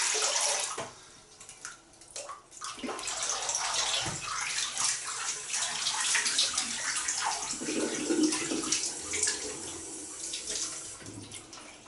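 Running water from a tap splashes steadily as shaving lather is rinsed off after a wet shave at a bathroom sink, a close continuous wash with shifting splashes and brief pauses; no talking.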